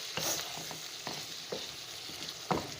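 Chicken liver (kaleji) fries in oil in a pan on a small home stove burner, a steady sizzle broken by several scraping stir strokes at irregular intervals, close and moderately loud with no talking.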